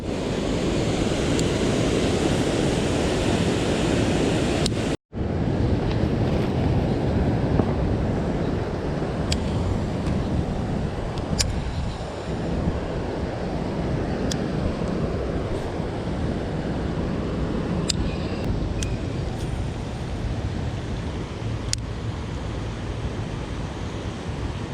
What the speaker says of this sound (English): there's a lot of moving water.